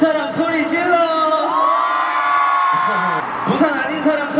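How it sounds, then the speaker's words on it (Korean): Screaming, whooping concert crowd at an arena show in Busan, a dense sustained roar of many voices cheering loudly throughout, with a brief dip near the end before rising again. "부산 사람 소리 질러!"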